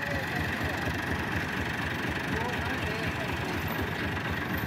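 A Massey Ferguson 385 tractor engine runs steadily at close range on a muddy track after rain, a constant low throbbing drone with no pauses or revving changes.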